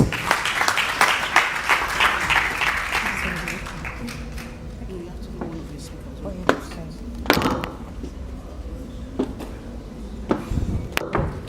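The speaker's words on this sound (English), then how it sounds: "Please give her a round of applause." Audience applause for a moderator at a content creation conference: a bright burst of many hands clapping fills the first few seconds, then dies away into talking, with a few scattered late claps and taps.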